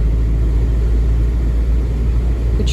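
A car rolls along the road, a loud, steady low rumble of engine and tyres filling the cabin without a break, with no voices over it.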